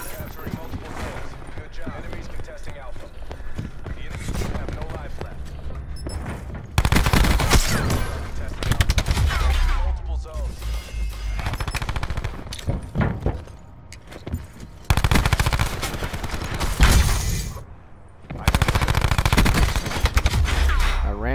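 Automatic rifle fire in the video game Control, loud sustained bursts of rapid shots alternating with quieter stretches of game sounds and movement, with occasional talking over the action.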